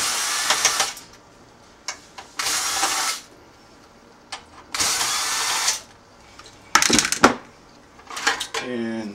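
Screws are backed out of the front panel of an MPC 2000XL sampler with a small electric screwdriver, several short whirring bursts separated by pauses, close and clear, with faint clicks between runs.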